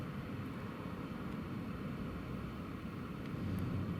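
A Ryanair airliner on approach to Newcastle Airport in stormy weather gives a faint, steady low rumble blended with broad wind-like noise, with no voices.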